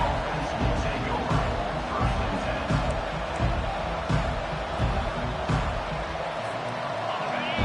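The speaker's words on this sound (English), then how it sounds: "This crowd trying to show them what it's going to be like all day in this house." A football stadium crowd roars steadily throughout, a dense wall of cheering and noise under an announcer's play-by-play.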